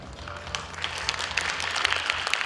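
Audience applause at a concert hall before a Spanish dance performance: a dense, steady crackle of many hands clapping at moderate loudness, continuing without any talk.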